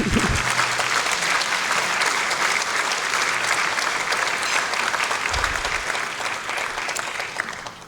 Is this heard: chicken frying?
no